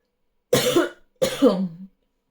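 Two separate coughs a moment apart, close and fairly loud, with silence around them.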